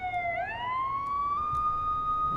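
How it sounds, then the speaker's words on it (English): A police car siren in the video game Watch_Dogs wails in a rising, sustained tone, clear and moderately close, over a low rumbling background. "That's a police car."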